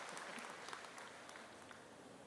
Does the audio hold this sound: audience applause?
yes